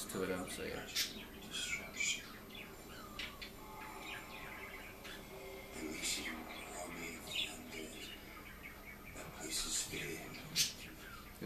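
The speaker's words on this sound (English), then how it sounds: "But if you guys hear birds in the background" Small birds chirp and tweet repeatedly in the background, bright and scattered, while a person talks over them.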